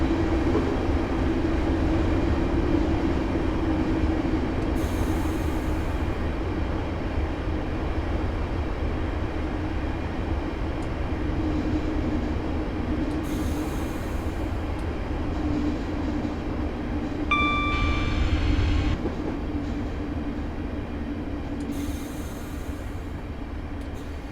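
A Class 158 diesel multiple unit in Train Simulator 2015 runs toward a platform on the Larbert to Glasgow Queen Street route, giving a steady low rumble with a brief brake squeal partway through.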